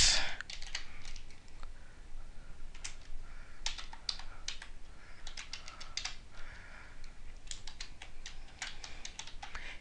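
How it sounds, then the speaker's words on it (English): Someone typing on a computer keyboard while writing C++ code, hesitant irregular clusters of close key clicks with short pauses, no voices. "bear with my typing here"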